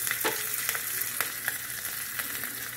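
Asafoetida dropped into hot oil for a cucumber chutney sizzles and crackles steadily, with a few sharper pops over a continuous frying hiss, close and fairly quiet, no talk.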